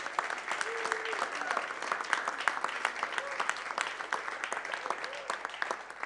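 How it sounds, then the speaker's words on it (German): An event audience applauds the catering team at a closing ceremony, sustained scattered clapping at moderate volume with faint voices mixed in. "Einen großen Applaus für das Catering-Team Dinette."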